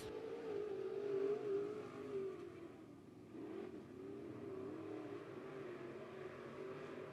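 Dirt track race cars run down the front stretch at Bolivar Speedway, a faint, distant engine drone that rises and wavers in pitch, then settles into a steady hum.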